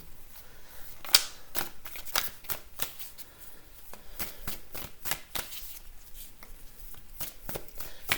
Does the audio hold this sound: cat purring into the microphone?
no